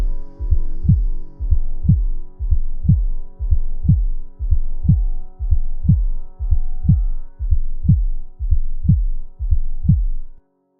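Slow, steady heartbeat pulses from an alien egg, low and throbbing, repeating about every second over a dark droning hum, with no voices.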